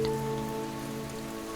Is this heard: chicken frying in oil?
no